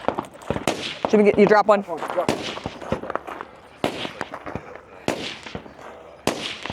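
Rifle shots at a competition firing line: a series of sharp, irregular cracks, some near and loud, others more distant, sound over a busy outdoor scene while people talk and shout in the background.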